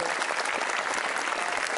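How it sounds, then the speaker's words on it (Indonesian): An indoor audience at a motivational seminar bursts into brief, dense applause, many hands clapping steadily at close range. "Tepuk tangan dulu buat kita semua sudah memilih A."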